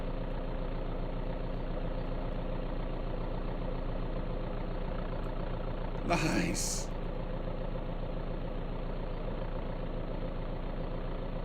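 A tractor engine idles steadily in the survival video game Vein, a continuous low rumble running throughout with a brief mechanical burst midway, while a voice speaks briefly over it.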